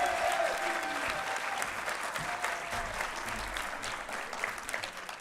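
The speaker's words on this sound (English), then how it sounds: "I need you to applaud once again for the head of practical work, Dr. Veronica Chocan" Audience at a dental medicine graduation ceremony applauds steadily, a dense, sustained round of clapping filling the hall throughout with faint murmurs beneath.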